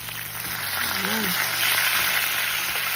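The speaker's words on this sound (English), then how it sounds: "I'm going to leave these to fry now" Fish frying in oil in a pan outdoors in Jamaica, a steady loud sizzle throughout, with a faint voice-like murmur briefly in the middle.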